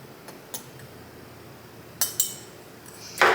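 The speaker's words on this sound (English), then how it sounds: "I mix the flour into the brown sugar just so it doesn't make lumps in the sauce" Flour mixed into brown sugar in a bowl for a blueberry cake sauce: quiet scraping with a few sharp, isolated clinks of a utensil against the bowl, ending in a louder burst of rattling contact, with no talk.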